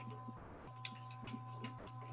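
Electric nail file drill with a coarse bit running steadily at higher RPM, a close, continuous high whine with faint grinding bursts as it touches the nail, no talking.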